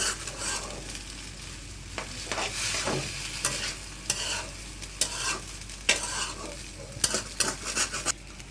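Noodles, egg and onion are stir-fried in a pan, with a steady sizzle broken by repeated scraping strokes of a spatula at an uneven rhythm, growing louder toward the end.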